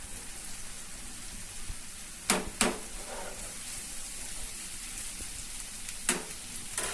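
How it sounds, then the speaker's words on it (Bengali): Fish fries with spices in a pan, giving a steady, close hiss of sizzling oil broken by a few sharp bursts of spattering or stirring, with no voices. "এটা মাছ দিয়ে মশলা দিয়ে একটু কষায় নিচ্ছি।"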